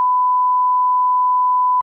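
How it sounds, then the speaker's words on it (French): A single censor beep added in editing: one steady, loud pure tone lasting almost two seconds, alone and cut off abruptly at the end. "ça sera bip au montage, bien sûr"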